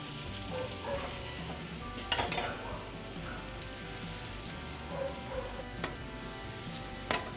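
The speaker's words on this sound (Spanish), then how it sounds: "Tenemos aceite calentando y le vamos a poner a ver cómo se fríe." Sopes frying in hot oil give a soft, continuous sizzle and crackle, fairly quiet overall, with a few sharper pops and clatters breaking through now and then.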